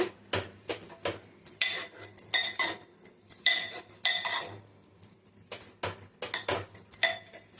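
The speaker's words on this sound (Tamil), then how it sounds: "அதை அதில் இப்போ சேர்த்துக்கலாம் நல்லா கலந்து விட்டுக்கோங்க" A spoon stirs mashed moong dal (split yellow lentils) into cooked spinach in a pot for pasalai keerai kootu, a run of close, light metallic clinks and scrapes in irregular bursts, with no talking.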